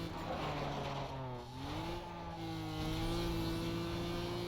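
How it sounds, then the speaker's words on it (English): Upgraded engine of an Audi TT racing in Need for Speed Most Wanted, a steady high-pitched buzzing whine that dips briefly then climbs back, loud and continuous with tire squeal hints. "when you get the Super Pro engine or Ultimate upgrade, the sound of the engine changes"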